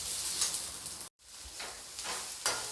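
Chopped onion frying in a pan gives a faint, steady sizzle with occasional stirring scrapes, broken by one brief dropout.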